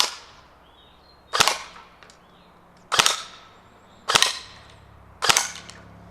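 Four sharp, loud airsoft blowback BB gun shots fired at homemade targets, each a crisp snapping crack with a short mechanical tail, spaced about a second apart against a quiet background.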